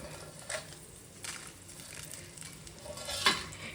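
Cinnamon, cloves, cardamom and dried red chillies dry-roasting in a pan, with soft scraping and stirring scrapes plus a few light clinks of a utensil against the metal, close and fairly quiet.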